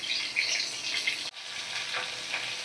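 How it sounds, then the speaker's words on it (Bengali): Katla fish pieces frying in oil in a kadai, a close, continuous bright sizzle with a brief stir or jolt midway. "আমি সব মাছগুলো কাটকইগুলো উল্টে দিয়েছি আর এক সাইডটা ভালো করে ভেজে নেওয়ার জন্য"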